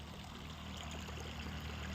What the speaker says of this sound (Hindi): चना में पानी चल रहा है।